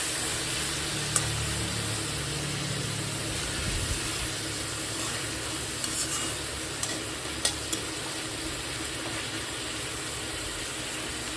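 Onions, green chillies and curry leaves sautéing in oil for mutton sukka, a steady close-up sizzle and crackle with soft stirring scrapes, no voices.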